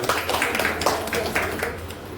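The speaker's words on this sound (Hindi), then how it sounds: "मैडम के लिए और ताली दो" An audience at a company achievers' gathering claps to welcome a woman chairperson, loud bursts of hand claps falling in a quick, uneven rhythm over room noise.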